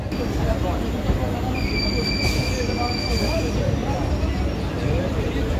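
A Canning local train departs Sealdah station: a loud, continuous rumble of rolling stock with thin, high wheel squeals drawn out over the middle of the ride.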